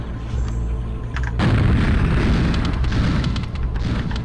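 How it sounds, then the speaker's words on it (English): A guided rocket fires and explodes in a video game, heard as a sudden loud, heavy boom that swells into a sustained rumbling roar and stays dense and close to the end. "we type in Impulse 105, we'll get a guided rocket"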